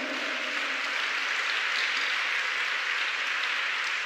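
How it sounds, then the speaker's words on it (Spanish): A church congregation at a Spanish-language service applauds, a soft, even, continuous patter of many hands, heard from a distance and without talk. "¡Dale un aplauso al Señor!"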